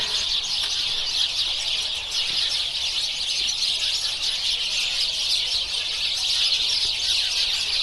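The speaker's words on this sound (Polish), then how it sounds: "Słyszycie jak u mnie ptaków?" Dense, continuous high chirping from many birds in spruce trees in an autumn garden, a steady bright chorus with no pauses and no voices.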